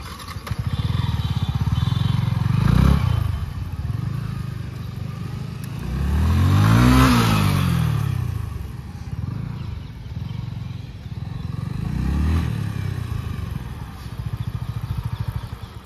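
A Yamaha MT15 motorcycle rides a round past, its engine droning and swelling as it nears and passes close by at about seven seconds, with fainter passes around three and twelve seconds, and no talk.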